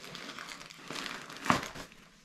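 A plastic or paper bag crinkles and rustles as it is unpacked, with intermittent close crackling bursts and one louder crumple midway.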